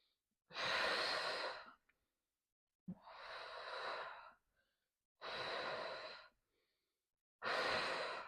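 Four long, loud breaths alternate inhale and exhale with silent pauses between, paced slowly during a gentle postpartum pelvic floor exercise, close to the mic with no talk.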